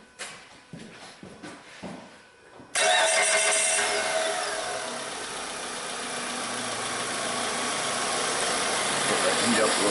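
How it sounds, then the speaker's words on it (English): A 2004 Mitsubishi car engine cranks and catches, then settles into a steady, loud idle that runs for several seconds after a few quiet handling noises. "Let me go ahead and start the car up here."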